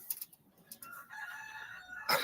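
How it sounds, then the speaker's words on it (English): A rooster crows once, moderately near, its drawn-out call rising over a quiet background with a few soft knocks before it and a louder noise burst at the end. "the rooster's back"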